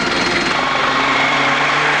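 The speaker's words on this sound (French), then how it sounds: "l'hélicoptère continuant à surveiller" A helicopter circles over a checkpoint during the 1986 Transcongo rally, a loud, steady whirring rotor and engine drone with a continuous high whine, close and unbroken throughout.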